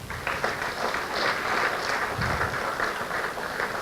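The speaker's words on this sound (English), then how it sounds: "Once again, a round of applause for our guest speakers" An audience at a talk in Bonnyrigg applauds guest speakers, a continuous wash of clapping from a room full of people, moderately loud and steady without any speech over it.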